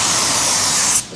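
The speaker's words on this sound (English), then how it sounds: "Okay, so I did a little spray." A short burst of spray paint hissing onto a car roof during an at-home paint job, a steady close hiss lasting about a second before cutting off.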